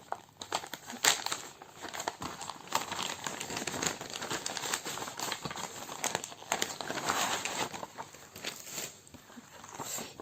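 Plastic wrapping around a cross stitch canvas is handled and pulled open up close, a steady run of crinkling and crackling with sharp snaps scattered through, and no one speaking.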